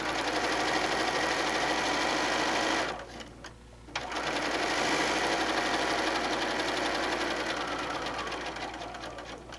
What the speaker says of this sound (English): we're going to sew about 1/4 inch from the